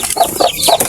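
Native chickens clucking while being fed wet feed on a farm: a few short, close, loud clucks in quick succession.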